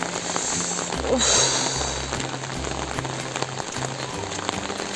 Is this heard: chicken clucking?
no